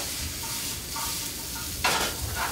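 Cauliflower sautéing in a pan, a continuous close sizzle with stirring scrapes, and a louder burst of hiss near the end as the pieces are moved.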